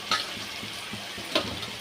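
Vegetables including capsicum and potato being stirred in a frying pan for veg biryani, with two sharp scraping clinks of the spoon over a soft, steady sizzle, close and fairly quiet, no talking.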